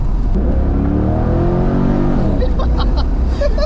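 A 2000 Chevrolet Corvette C5 engine revs and pulls hard, a loud, steady throaty roar rising in pitch, close and continuous.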